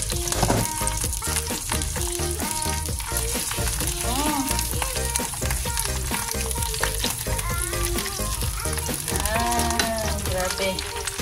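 Pork meat frying in a pan, giving a continuous loud sizzle with stirring and clattering over it for the whole stretch.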